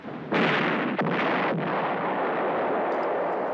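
A heavy gun blast fired at a ship at sea, a sudden loud boom with a second thump shortly after, then a long rumbling roar that slowly fades.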